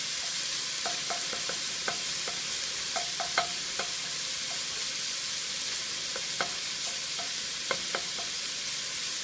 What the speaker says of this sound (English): what we're going to do is cook that tomato paste